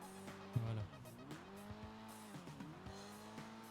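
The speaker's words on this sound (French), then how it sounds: "tu vas entendre le moteur" A car in GTA drifting, its engine revving with rising and falling pitch over a steady hum, a short tire squeal burst early on, played fairly loud without talk.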